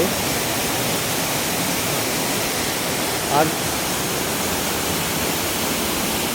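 Roaring waterfall, a dense, unbroken rush of falling water filling the space evenly and close, with one brief higher streak near the middle.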